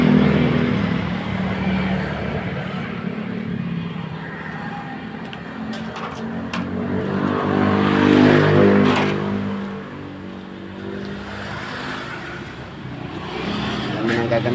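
A motorcycle used for collecting scrap idles and revs nearby, a steady rumble that swells in the middle, with someone talking over it.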